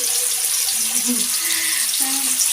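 Water running from a tap as a container fills on a rooftop, a steady hiss of flow with faint tonal squeaks and clinks rising over it, no talking.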